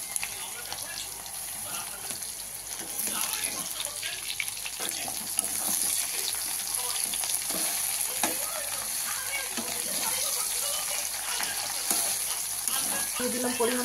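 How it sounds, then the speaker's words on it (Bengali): Water lily stems fry in oil in a wok with a continuous sizzle, while scraping and knocking sounds from stirring recur and a voice talks faintly at times. "দিয়ে দিচ্ছি শাপলাগুলোকে।"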